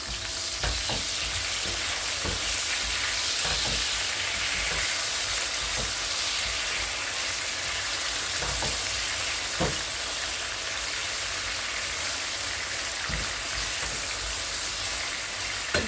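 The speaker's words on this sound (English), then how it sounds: "instead of the thing seems like it's frying, it seems to be like it's boiling in the oil" Food frying in oil with butter in a pan, producing a continuous close, loud sizzle with scattered sharp pops and crackles, with no talking.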